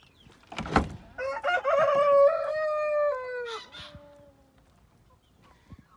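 A rooster crows once, loud and close, in a poultry coop in Taşköprü, Kastamonu, one long drawn-out call that trails off into quiet.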